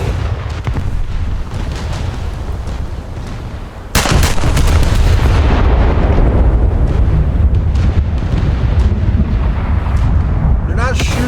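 Warship guns fire in a naval video game with the battleship Kurama, a sudden heavy boom bursting in midway and leaving a loud rumbling roar, while a voice talks underneath.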